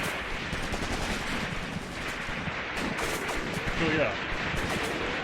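Machine gun and rifle fire in the WWII tactics game Graviteam Tactics, Operation Blau: continuous crackling bursts and distant rumbling battle noise, steady throughout, with someone briefly speaking over it.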